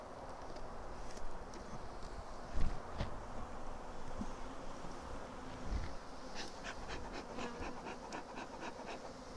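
Honeybees buzzing steadily around an open beehive being split, a faint, continuous hum with occasional knocks and handling sounds from the hive boxes.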